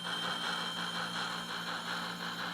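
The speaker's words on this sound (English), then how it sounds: "This is a very nicely remotored, redecoded Blackstone engine, which has a TCS decoder in it," A remotored HO-scale Blackstone locomotive with a TCS sound decoder runs steadily, giving a continuous mechanical engine drone with faint squealing and rattle, close and even in level throughout.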